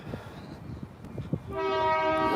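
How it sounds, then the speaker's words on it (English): A train horn starts partway in as a loud, sustained harmonic blast after softer low knocking from passing rail traffic at a street crossing. "The train horn."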